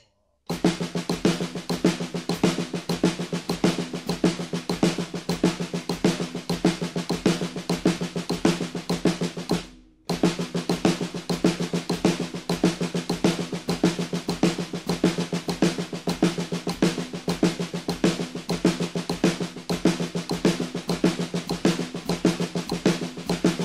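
Drum kit playing a hand coordination exercise with the accent displaced by a sixteenth note, a steady, dense groove of rapid strokes at even volume, briefly cutting out for a split second midway.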